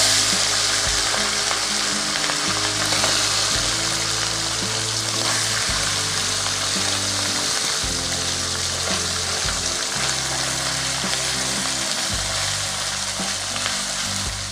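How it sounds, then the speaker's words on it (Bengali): Mourala fish frying in hot mustard oil in a wok, a steady loud crackling sizzle that runs throughout with faint low clatters beneath and no talk. "এবার আমি এতে মাখিয়ে রাখা মোরলা মাছগুলো দিয়ে ভেজে"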